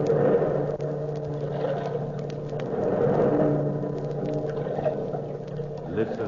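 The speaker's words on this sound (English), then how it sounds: "Listen to the waves." Sea waves rolling into a cave in a 1943 radio drama: a steady, low surging wash that rises and falls continuously, close and fairly loud, with no one speaking.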